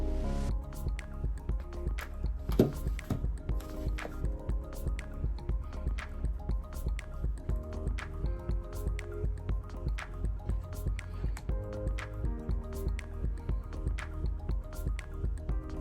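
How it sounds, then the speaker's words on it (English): Thick latex paint drips and squishes off a drill-driven mixer paddle as it is slowly drawn up out of a paint bucket, a steady wet patter running throughout over a low continuous hum. "Gently pull out the mixer while reducing the RPMs as you pull out."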